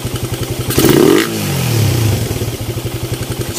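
A Honda Raider 150 fitted with a 30mm Koso KSR open carburetor and straight exhaust putters at a close, steady idle, then gives one sharp rev that drops quickly back to an even pulsing idle.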